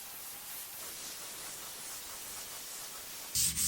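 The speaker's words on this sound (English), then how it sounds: "I'm using my Earlex 5700 to do the spraying, and it worked fabulous." An Earlex 5700 paint sprayer hisses steadily as it sprays shellac-based primer onto laminate, a continuous broadband spray noise that turns louder and harsher in the last moments.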